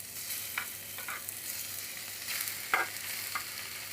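Chicken with chili and garlic sizzling and stir-frying in a hot pan, a steady hiss with a few sharp scraping clacks of a utensil, close up, no voices.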